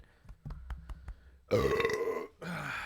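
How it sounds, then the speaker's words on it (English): A long, loud, deep burp rumbles out close to the mic for about a second, following a few soft tapping clicks, then a short second belch trails after a brief pause. "Here comes a burp."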